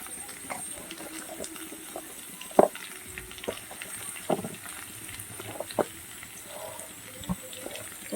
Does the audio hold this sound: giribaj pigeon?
no